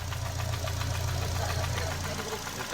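A car engine knocks steadily with a rapid, rattling tick over a low, continuous idle hum, loud and close throughout.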